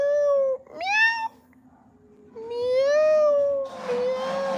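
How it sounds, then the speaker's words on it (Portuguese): A cat gives several long, loud, close meows with rising and falling pitch, separated by short pauses, the last one raspy and breathy. "Gato miau, miau, miau,"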